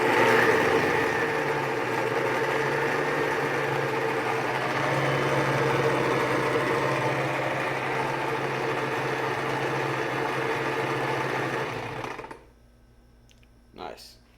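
A Blendtec Classic 575 blender motor whirs loudly and steadily on low speed for about twelve seconds, then cuts off abruptly, leaving near silence and a small clunk.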